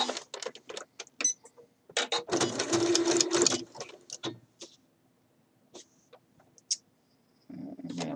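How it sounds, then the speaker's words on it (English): Sewing machine stitching along the pressed, folded edge of a Simplicity 8014 shirt dress, heard in several short bursts with one long steady run in the middle, close and clear with quiet handling sounds between. "this pressed edge, we're going to stitch with the edge of your foot against the folds all the way"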